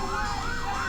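An ambulance siren wails in a rising and falling sweep, loud and continuous, with no talk over it.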